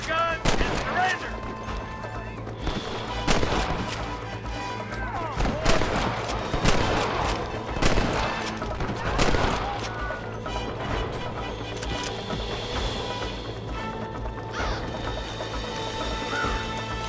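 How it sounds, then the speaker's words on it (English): Gunfire during a shootout in Red Dead Redemption, with rapid overlapping shots and cracks over a steady background din, dense in bursts throughout, and voices talking amid the fighting. "Fine shooting, boys."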